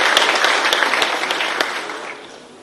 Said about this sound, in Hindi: जोरदार ताली बजा करके आज के शुभारंभ में हम सब सहभागी हो जाए।